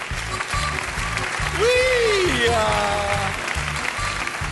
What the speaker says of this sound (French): Oh, applaudissez.